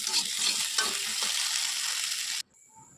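Potatoes sizzling and being stirred in a kadai pan on a stove, a loud close hiss of frying with scraping stirs, cutting off abruptly after about two and a half seconds.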